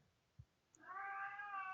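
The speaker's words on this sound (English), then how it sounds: "Stupid cat." A cat lets out a single loud, drawn-out meow close by, preceded by a soft thump, indoors during a disc golf tournament broadcast.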